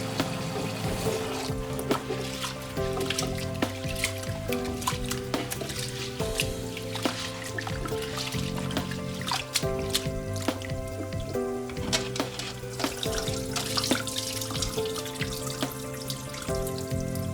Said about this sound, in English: So typically you should wash your rice about 7 to 8 times when you're using this method.